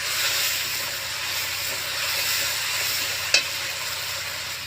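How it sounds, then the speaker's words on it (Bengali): Spice paste with chili and cumin powders sizzles steadily in hot oil in a pan over low heat for a fish curry, a constant close frying hiss broken by one brief sharp clink near the end. "হালকা জালে খুব ভালো করে কষিয়ে নিতে হবে"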